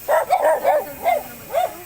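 An angry dog barks six times in a quick, uneven run, close and fairly loud, each bark short and sharp with a slight yelping edge.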